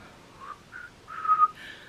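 A person whistles a few short, wavering notes, quiet and close, with brief gaps between them and a slightly longer, louder final note; no talking.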